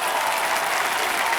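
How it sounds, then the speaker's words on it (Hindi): A large crowd at an Indian event honouring sportspeople applauds in a dense, steady, loud wash of clapping with no pauses. "आज यहाँ तालियों की बौछार जो हमने देखी है और जो गूंज सुनी है"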